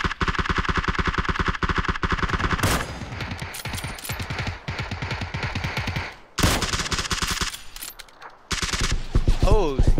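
Video game gunfire rattles in long, fast automatic bursts, loud and close, broken by short pauses, with a voice briefly audible near the end.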